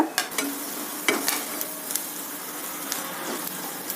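Chopped onions fry with turmeric and salt in a pan for a potato filling, a close sizzle broken by several sharp scraping stirs of a spatula, with no voices.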